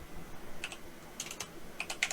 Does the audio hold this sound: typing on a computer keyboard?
yes